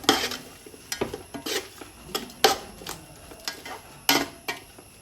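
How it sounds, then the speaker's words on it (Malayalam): Ginger garlic paste being stirred into tomatoes in a pot for Thalassery mutton biryani: a spoon scrapes and clinks against the metal pot in an irregular rhythm, fairly soft, over a quiet sizzle, with no talk. "ഇനി അതിലോട്ട് ഇഞ്ചി, വെളുത്തുള്ളി ചതച്ച് നമ്മൾ നേരത്തെ ഉണ്ടാക്കി ഇട്ട് കൊടുക്കാം. അത് നല്ലപോലെ ഒന്ന് ഇളക്കി കൊടുക്കുക"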